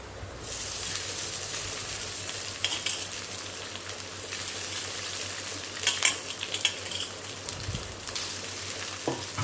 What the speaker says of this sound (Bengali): ভাতগুলো দিয়ে দিচ্ছি। এবার নাড়াচাড়া করে নিলাম।